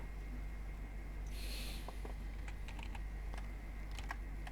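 Quiet typing on a computer keyboard during a Google search, a scattering of light key clicks over a steady background hum.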